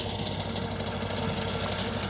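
A tractor engine runs with a rotary tiller working a field, a steady, loud mechanical drone with a rapid vibrating rattle that holds throughout without a break.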